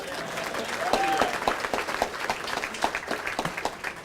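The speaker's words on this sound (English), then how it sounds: "Give Judy a round of applause." A banquet audience at a press club hall of fame event applauds, with a broad wash of many hands clapping, steady and moderately loud throughout and a few sharper claps standing out.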